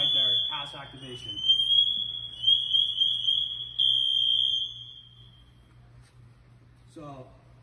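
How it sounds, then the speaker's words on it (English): A firefighter's SCBA PASS device sounds its full alarm, a loud sustained high-pitched electronic tone with pulsing overtones lasting several seconds, with someone speaking briefly before and after it. "And there's the full alarm right there, pass activation."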